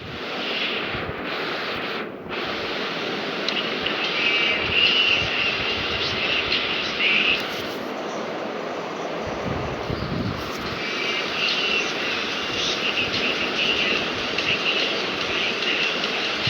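A helicopter drones continuously in the horror video game Granny, a loud, steady rotor-and-engine roar with a few brief dips, no talk over it.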